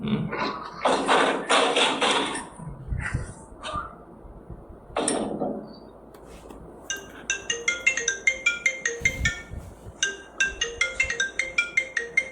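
After some talking and clatter, a bright electronic phone ringtone starts and repeats in a quick, steady melodic pattern for several seconds.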